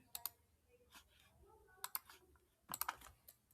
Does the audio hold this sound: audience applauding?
no